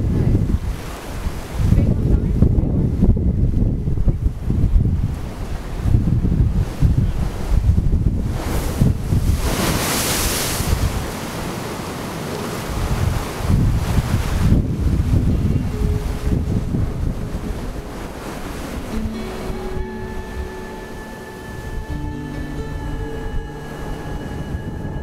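Ocean waves break against the Iceland coast amid strong, buffeting wind that roars steadily across the microphone, with surf building and crashing continuously and a faint tonal whine appearing near the end.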